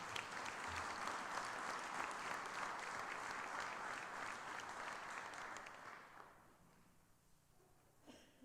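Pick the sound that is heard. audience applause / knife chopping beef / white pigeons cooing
audience applause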